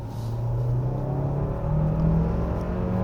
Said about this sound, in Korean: 일단 엑셀 밟자마자 아주 짧게 모터가 순간적으로 힘을 내주고요. 그 다음에 엔진이 그 다음에 힘을 넘겨봤습니다.